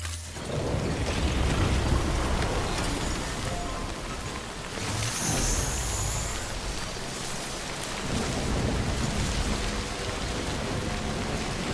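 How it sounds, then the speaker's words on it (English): Heavy rain in the Death Stranding video game pours steadily and densely on surfaces, with low rolls of thunder rumbling underneath and a brief brighter crack partway through. "I guess the rain isn't going to let up."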